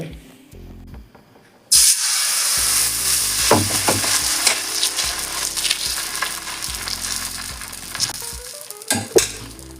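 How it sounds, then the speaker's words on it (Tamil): Onion dosa sizzling loudly on a hot griddle with sesame oil, a steady bright hiss with crackles that starts suddenly after a quiet two-second lead-in and carries on to the end. "இப்போ இதுக்கு தோசை சுட்டுக்கலாம்"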